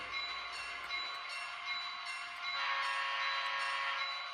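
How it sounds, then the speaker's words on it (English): A faint, distant model train locomotive hum on a Digitrax layout, with a soft whistling tone that swells slightly midway, steady and continuous without talk. "You hear that in the distance. That's the other locomotive on the other side."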